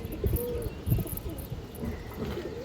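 Pigeons coo in repeated low, throaty bursts, close by, with a soft chirping and insect-like background hiss behind the calls.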